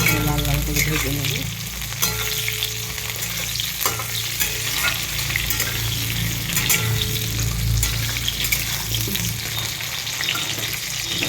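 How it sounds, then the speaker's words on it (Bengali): Cut potatoes fry in oil over chopped onions in a pan, a steady close sizzle running throughout with repeated scraping stir strokes and utensil clinks, no voices. "আলুটাকে একটু ভালো করে লাল লাল করে ভেজে নেব।"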